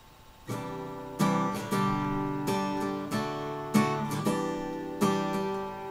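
Acoustic guitar strums chords in an uneven, syncopated pattern, each strum ringing out clearly with no voices.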